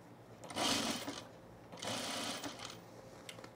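A sewing machine stitches a men's Arbor shirt in two bursts of steady whirring, each about a second long, with a short pause between them; the sound is close and moderately loud.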